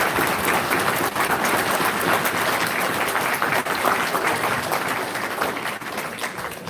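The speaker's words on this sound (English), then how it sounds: "All right, give him a round of applause." Sustained audience applause fills a hall at a Hebrew summit, steady and dense clapping from a large crowd throughout, loud and close with no talk over it.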